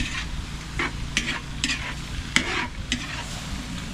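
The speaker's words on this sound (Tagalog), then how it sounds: "Halo-haloin na po natin mga pinsan." Chicken tinola stirred in a cooking pot over heat, a steady sizzle under repeated scraping strokes of a spoon against the pot, close and moderately loud with no voices.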